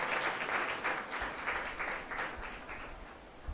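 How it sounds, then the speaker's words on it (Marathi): A church congregation in Solapur applauds steadily, a dense wash of many hands clapping together at an even loudness throughout. "अजून बस टाळ्या बसवा त्यांच्यासाठी"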